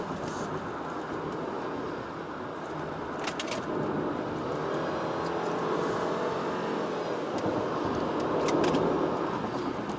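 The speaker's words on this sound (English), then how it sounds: "it's just the whine of the CVT" A 2019 Subaru Forester on the move with its CVT whining over steady road and engine noise inside the cabin, a continuous even drone for about ten seconds with no talk.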